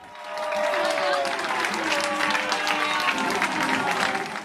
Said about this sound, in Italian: gol spettacolare e applausi del pubblico del Presti